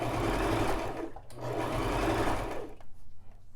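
A Brother LX3817 sewing machine stitching a knit blind hem in two short bursts of steady whirring needle motor, close and loud, each stopping abruptly, with a brief pause between them.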